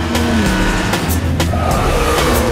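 A Buick GNX driven by Vin Diesel in a Fast and Furious film roars loudly, its engine revving and rising in pitch with sharp transient bursts and a brief tire squeal, heavy low rumble throughout.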